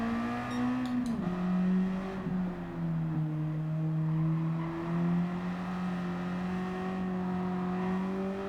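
Car engine in the Gran Turismo 7 racing game, a steady droning hum that drops in pitch with a quick downshift near the start, then holds a fairly even note at moderate loudness with no talking.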